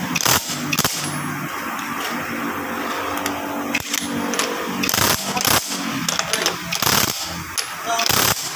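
An impact wrench loosens the wheel lug nuts on a Honda City during a general service, firing loud rattling bursts that repeat in short strings over a background hum, with people talking now and then.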